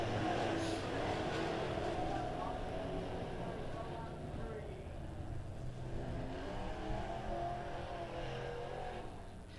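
Midwest modified race cars racing at Springfield Raceway, a steady loud engine roar filling the whole stretch with no clear single pass, while a race announcer talks over it.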